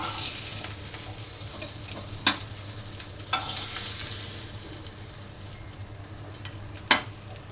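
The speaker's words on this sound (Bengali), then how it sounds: "সরকুচি মাছ ভাজি করেছি ভাজাটা হয়ে গেছে এখন আমি উঠিয়ে নিচ্ছি" Sarputi fish frying in hot oil: a steady, close sizzle that holds the whole time, broken by a few sharp utensil clinks.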